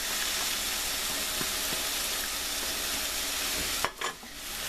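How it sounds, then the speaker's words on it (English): Shiitake mushrooms added to a hot pan for tofu tamago yakisoba, giving a steady, close sizzle and hiss with a few soft stirring clicks and a sharper crackle near the end. "Now I'm going to add my shiitake mushrooms."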